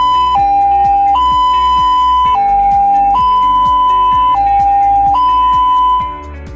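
An ambulance siren imitating a railway crossing bell, used when picking up a patient, alternates loudly between two tones with a clanging repeated pulse before fading out at the end.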